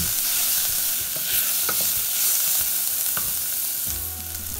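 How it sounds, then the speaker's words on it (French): Black pepper frying in a pan gives off a loud, steady sizzle with a few sharp stirring clicks and scrapes, close up, with no voices. "on fait revenir le tout pour dégager les arômes du poivre"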